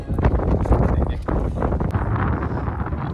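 Strong wind gusts buffet the microphone on the stone ramparts of Gopalgad, a seaside fort on the Konkan coast at Anjanvel, a loud continuous roar with brief dips.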